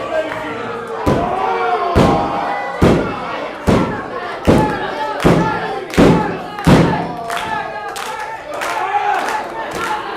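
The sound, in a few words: wrestler's kick landing on opponent, crowd reacting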